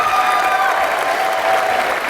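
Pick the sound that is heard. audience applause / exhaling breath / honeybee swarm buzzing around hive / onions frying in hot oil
audience applause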